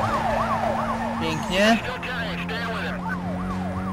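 A wailing police siren from the racing game Need for Speed Most Wanted (2005) cycles up and down steadily over a low engine drone, loud and close throughout, while a player briefly speaks.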